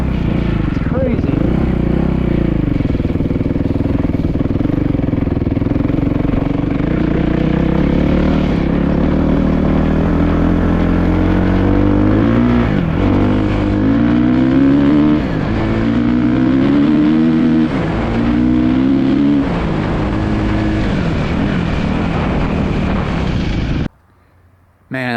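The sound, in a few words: 450cc dirt bike engine riding and revving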